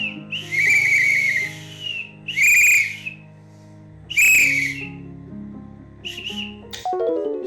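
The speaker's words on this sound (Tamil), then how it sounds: "நைட்டு நேரம் விசில் அடிச்சிட்டு இருக்கேன்" A person whistles nearby in several loud, clear, sustained tones, each held for a second or so and separated by short pauses, over faint steady background tones.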